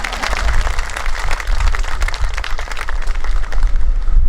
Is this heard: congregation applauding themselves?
yes